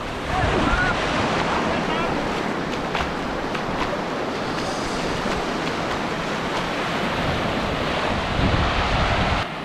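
Sea surf washes onto a Konkan beach where a fishing boat has landed for evening net hauling, a steady loud broadband rush of breaking waves mixed with wind buffeting the microphone throughout.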